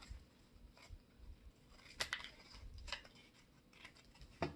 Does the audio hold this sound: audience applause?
no